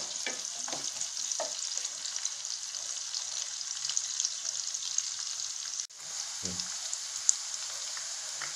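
Onions frying on a medium flame for mixed vegetable sabzi give a steady, even sizzling hiss, with faint stirring taps early on and a brief dull knock partway through.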